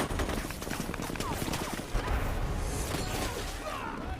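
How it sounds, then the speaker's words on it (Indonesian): Gunfire exchange in a military sniper action film, a dense continuous crackle of shots with crashes and clatter throughout, loud and busy with no pauses. "Saat itu juga, mereka saling melakukan kontak senjata."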